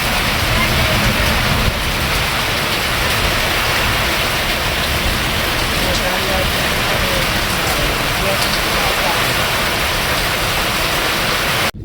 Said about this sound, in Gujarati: બહુ આવ્યો વરસાદ